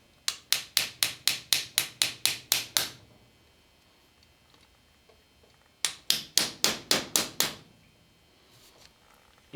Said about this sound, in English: I'm just going to take a hammer and tap this tang right there towards the back